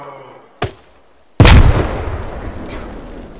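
A GP25 grenade launcher on an AK-103 rifle in the Arma RHS mod fires with a sharp pop. About a second later a close, heavy explosion booms and its rumble decays slowly.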